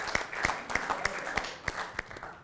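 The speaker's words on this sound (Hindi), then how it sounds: "एक बार जोरदार तालियां हो" Rhythmic clapping rings out at a Hindi poetry recital, a few people beating their hands in steady sharp claps, fairly close and clear over a light background murmur.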